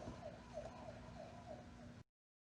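Police sirens from the film The Terminator wail faintly in the distance, a repeating rising-and-falling tone that cuts off abruptly near the end.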